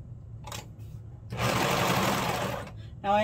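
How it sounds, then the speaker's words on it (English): A Brother 655D serger runs steadily along the inseam of a sleeve for holiday pajamas, its dense motor whir lasting about a second and a half between quieter stretches of room noise. "Now I am using my brother serger today."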